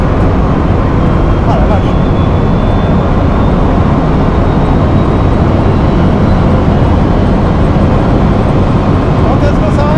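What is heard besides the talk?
Bugatti Chiron Pur Sport accelerating at full power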